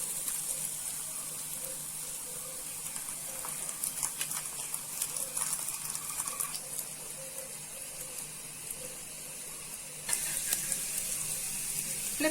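A spinach leaf coated in bhaji batter sizzles on a tawa, a steady close frying hiss with crackling bursts and a louder surge of sizzling near the end.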